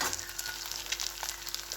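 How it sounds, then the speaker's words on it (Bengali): Fish sizzles as it fries in a home kitchen pan, a steady close crackling hiss with small spits and pops throughout, no voices. "যে আমি মাছ ভাজা বসিয়ে দিয়েছি,"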